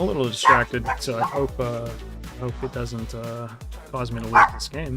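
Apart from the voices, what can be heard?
dog barking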